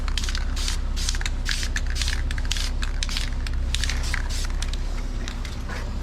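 Spray paint hissing onto a car's wheel spokes in short, repeated bursts with brief pauses between them, close and fairly loud, with no talking.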